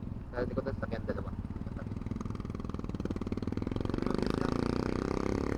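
A motorcycle engine idles while waiting in a queue, a steady mid-pitched putter that grows louder and more prominent over the last seconds, with people talking nearby over it.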